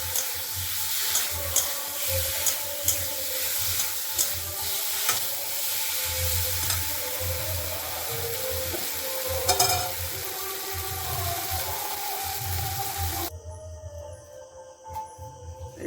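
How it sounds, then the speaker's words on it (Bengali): Potatoes stir-fried in oil in a pan for aloo dum hiss and sizzle continuously, with repeated scraping stir strokes and clicks. The sizzle drops off abruptly near the end. "একটু ভালো করে এরকম করে নেড়ে নেড়ে নেড়ে নেড়ে কষিয়ে নিতে হবে"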